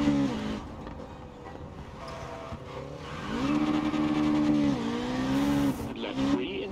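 Ford Escort MKII rear-wheel-drive rally car in the WRC Generations video game on a gravel stage in Portugal, its engine revving loud and close, with pitch climbing and dropping through gear changes and tire noise underneath.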